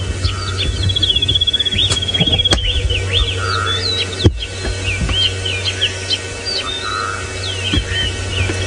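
Several small birds chirp and trill repeatedly at dawn during a safari drive, over a low steady hum, with faint insect buzzing in the background and an occasional soft thump.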